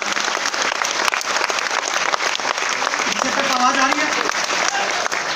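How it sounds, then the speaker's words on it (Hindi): Loud applause from a large seminar audience in Bhilwara, Rajasthan, clapping with both hands raised. The clapping is dense and continuous throughout, and a voice speaks over it toward the end. "उनके लिए दोनों हाथ ऊपर करके ताली जोरदार वाली बजाएं।"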